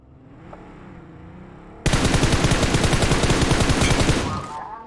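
Rapid automatic gunfire in the mobile battle royale game PUBG Mobile, starting abruptly after a quieter stretch and rattling loud and continuous for about two seconds before stopping.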